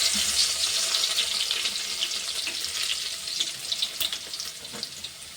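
Garlic dropped into hot oil already crackling with mustard seeds and cumin, a steady close sizzle with scattered sharp pops and spits throughout.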